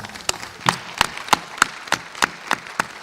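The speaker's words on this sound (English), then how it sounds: "Let's give applause to our panel." A few scattered hands clapping for a panel at a UN Water preparatory meeting in Dakar, with sharp, evenly spaced individual claps rather than a full crowd, close and fairly loud.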